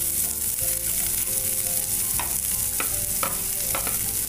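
Sliced onion dropped into hot oil already holding ginger and garlic, frying with a steady close sizzle and a few sharp crackling bursts from stirring, no voices.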